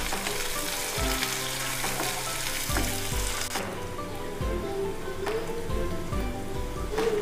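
Onions sizzle and fry steadily in a hot pan for a village-style black chickpea pepper rice dish, a dense continuous crackle with occasional scraping stirs, close and alone.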